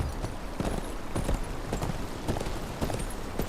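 Horse hooves clip-clopping in the Game of Thrones: King's Road video game, a brisk, even rhythm of close, sharp hoofbeats repeating throughout with no talk over them.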